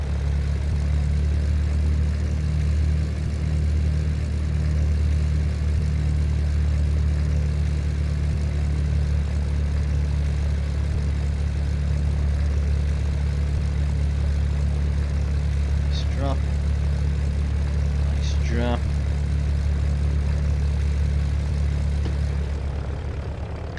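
An Ikarus C42 microlight engine held at 2000 RPM in the FSX flight simulator gives a steady, loud propeller drone throughout, with a person talking over it.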